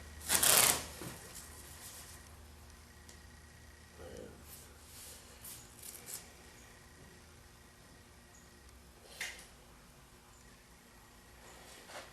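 Masking tape being pulled and laid around a stencil on a car body during custom graphic painting, with a loud ripping burst at the start followed by scattered softer tearing and pressing sounds.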